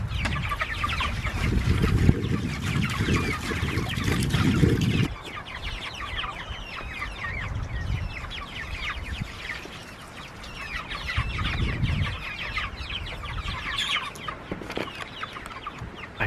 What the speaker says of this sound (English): These meat birds are loving their water.